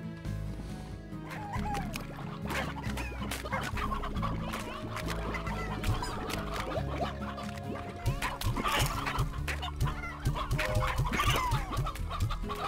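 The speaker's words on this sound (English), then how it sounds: "Seems like we got a lot of chickens going now" Many chickens cluck and cackle continuously in the video game Slime Rancher, a busy overlapping flock with an occasional crow, over light background music.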